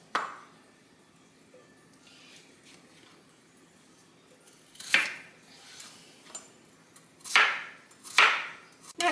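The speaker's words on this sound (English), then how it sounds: "Right now what I'm doing, I'm just chopping up my potatoes." A few sharp knife strokes chop potatoes on a cutting board in a home kitchen, near and fairly loud, arriving in an uneven cluster late after a quiet stretch of faint background noise.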